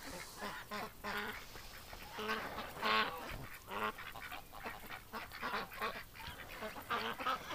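A flock of backyard ducks in winter calls out in repeated honks and quacks, several birds overlapping near at hand, bursts rising and falling in a lively, uneven rhythm without any voices.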